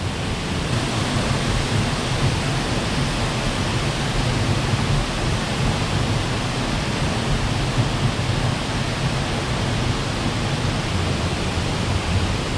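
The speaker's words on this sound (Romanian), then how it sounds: "De adevăr e foarte frumoasă cascada asta." A waterfall near Senaru and Sembalun on Mount Rinjani, Lombok, roars steadily and loudly at close range, water also spilling from beneath the rocks, a constant dense rush with no voices.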